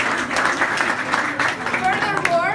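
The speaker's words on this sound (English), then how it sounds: "These are their artworks, so I would like to ask you to applause." An audience at an amateur photography exhibition gives a round of applause, steady clapping that swells and fades with voices talking over it.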